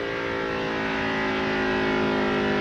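A NASCAR race car engine screams at high revs near 9,000 RPM during practice at the 2003 Pennsylvania 500, a continuous loud, sustained whine that holds steady and rises slightly.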